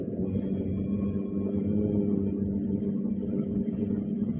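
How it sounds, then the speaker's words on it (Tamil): Aircraft engines running at low power as a plane taxis slowly after landing, a steady droning rumble with a low hum that holds evenly throughout, with no voices. "ஆனால் இன்ஜின் எல்லாம் ரன்னிங்கில் இருக்கு"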